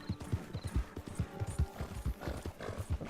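Horse hooves galloping in Red Dead Redemption 2, a rapid, rhythmic clip-clop of repeated thudding beats, close and clear, with faint game ambience behind.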